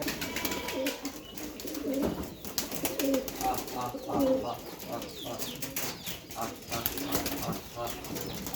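Pigeons at a pigeon farm, with repeated low coos and bursts of wing flapping amid a busy, cluttered background, and a voice speaking partway through.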